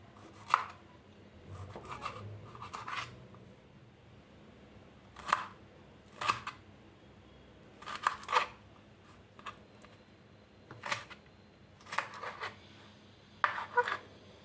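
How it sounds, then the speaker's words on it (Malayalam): A knife cuts ivy gourd (kovakka) into long pieces on a board, about a dozen separate crisp chops in an uneven rhythm, close and quiet, with no talking. "ഇങ്ങനെ രണ്ടോ മൂന്നോ ആയിട്ട് വീണ്ടും കട്ട് ചെയ്ത് മാറ്റാം"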